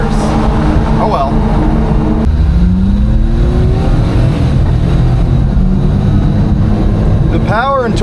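A Daihatsu Hijet S110P mini truck drives off road on soft tires, its engine note rising as it shifts up, with someone talking over the steady drone and a brief squeal near the end.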